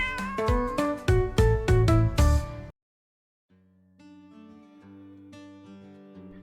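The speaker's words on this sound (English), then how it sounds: "your neighbor's cat" A neighbour's cat meows loudly and close several times in quick succession, followed by a pause and then softer, sustained tonal sounds.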